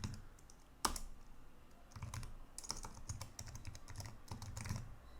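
Computer keyboard typing while entering RPG code on an IBM i (AS400) system, a steady run of close, crisp key clicks with one louder tap early on and brief pauses between bursts.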